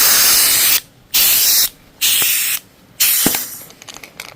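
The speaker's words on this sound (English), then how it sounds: "when you go to unscrew this, if there's still pressure, bleeds are off" A CO2 cartridge vents leftover pressure while being unscrewed, giving four loud hissing bursts separated by short silent gaps and a softer sputtering hiss at the end.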